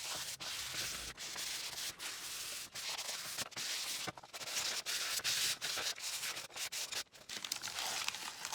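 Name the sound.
lightly sanding wood pieces of a farmhouse kit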